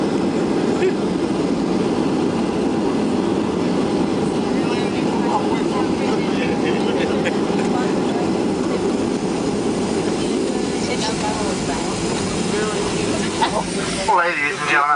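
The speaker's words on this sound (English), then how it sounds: "until Batman and Robin brings the aircraft to a full and complete stop" Passenger jet landing and rolling out at San Francisco airport, heard from the cabin as a loud continuous engine roar and rushing hiss, with voices talking over it.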